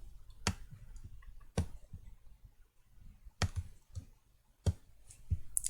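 Sharp, close computer mouse clicks arrive in pairs as double clicks while a user works in CAD software on a PC, separated by quiet gaps with faint background hum.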